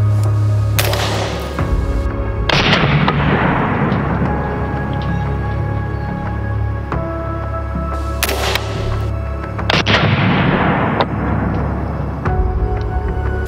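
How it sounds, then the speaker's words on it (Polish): Firearm shots fired at a padlock: two or three sharp loud cracks, each followed by a long ringing decay, spaced several seconds apart over a steady low background hum. "chciałem mieć pewność i strzeliłem jeszcze raz"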